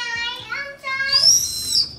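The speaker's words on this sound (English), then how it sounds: "Let's hear your whistle." A child whistles a few short, wavering tones that slide upward into a higher, breathy whistle, close by.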